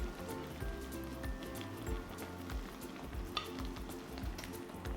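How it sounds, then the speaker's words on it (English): Salmon and pork belly cook in a miso butter hot pot, a steady close sizzle and bubbling with soft stirring and occasional clinks. "so now I'm going to add the salmon and pork bellies."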